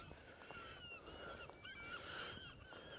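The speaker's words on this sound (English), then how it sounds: "Oh, seagulls." Seagulls calling repeatedly at a small harbour on the Helford River near Nare Point in Cornwall, their thin, wavering cries moderately loud over steady outdoor background noise.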